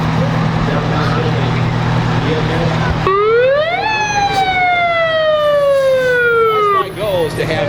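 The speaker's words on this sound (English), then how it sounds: "goal is to have every emergency vehicle hit their siren or something when they come by the stand" Emergency vehicle siren at a Christmas parade in West Plains, the fire department passing the stand; wailing siren rises and falls loudly and nearby over crowd and street noise, about four seconds long.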